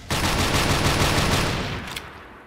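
Loud, sustained burst of rapid automatic fire from an AA-12 shotgun in a video game, dense and continuous, tapering slightly at the end before stopping.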